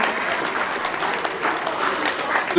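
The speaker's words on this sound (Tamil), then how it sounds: "உற்சாகம் சிறிதும் குறையாமல் அதே வேகத்தோடு நம் கைகளை தட்டுவோம்" An audience at a Tamil school graduation and annual day ceremony in Dayton, USA keeps up steady, even applause, many hands clapping continuously at a moderate distance.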